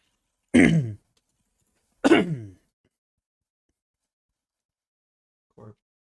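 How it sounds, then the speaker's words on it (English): Two rough throat clearings and coughs come close to the mic about a second and a half apart, followed after a silence by a short, faint third cough. "If you want to cough really hard, let me know too."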